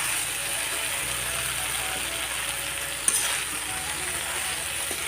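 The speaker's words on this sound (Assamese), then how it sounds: "অলপ দেৰি এনেকৈ লৰাই দিছোঁ কাৰণ কেৰাহীত লাগি ধৰিছে।" Okra and potato fry in a wok with a steady, close sizzle that runs the whole time, while a utensil scrapes and stirs through the pan. A short clatter lands partway through.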